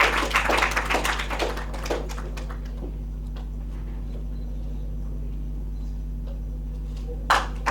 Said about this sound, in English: Huge round of applause for Yunus Sheikh for his great work